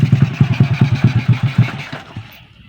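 A motorcycle engine runs with a fast, steady putter of even pulses, close and loud, then cuts off abruptly and fades to near silence near the end.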